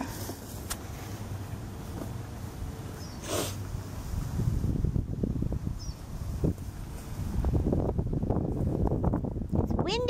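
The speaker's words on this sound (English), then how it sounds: "Windy." Strong wind buffets the microphone in continuous low rumbling gusts, growing rougher in the second half, with a brief snort-like sound early on.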